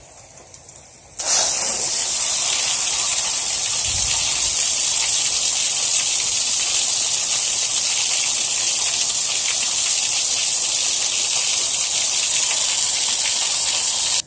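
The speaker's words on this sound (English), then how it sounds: "I'm going to purge off some of the water real quick." Water purged from a ClearSource water filter system bursts into a loud, steady rushing hiss after a quiet second, spraying continuously and close for the rest of the clip.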